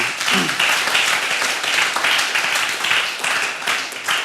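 Audience applause for the Allina Health digital experience team at a talk, a dense, steady wash of many hands clapping that holds throughout with gentle surges and no voice over it.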